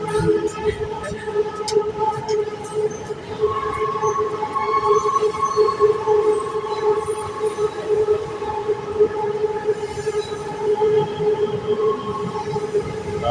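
Electric train in Thailand rolling past for a long stretch, a steady loud rumble with a sustained tonal whine and rail clatter, close by, with faint voices now and then.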